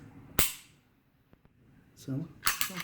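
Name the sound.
pistol dry fire trigger click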